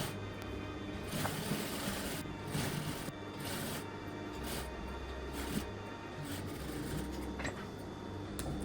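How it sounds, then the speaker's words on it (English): A sewing machine runs a quarter-inch top stitch along the edge of a shirt, giving a steady low mechanical whir with recurring rhythmic bursts and no talking. "So it's more of a 1/4 of an inch top stitch here along the edge."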